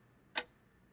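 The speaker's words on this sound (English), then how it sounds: "We have a clock ticking." A single clock tick from a sleep machine sounds once, a short sharp click followed by a faint softer tick, alone against a quiet background.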